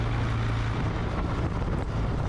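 A Kawasaki W800 Cafe motorcycle exhaust idles in a low, steady drone, fairly quiet and mixed with wind buffeting the microphone.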